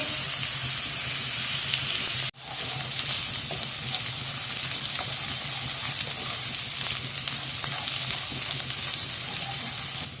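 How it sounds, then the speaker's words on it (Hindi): Steady, loud sizzling of crushed ginger and garlic frying in a hot pan, continuous crackle throughout with one brief dip, no voices. "1 टेबलस्पून कुटा हुआ अदरक लहसुन ऐड करेंगे और इसकी स्मेल खत्म होने तक हम इसको भून लेंगे"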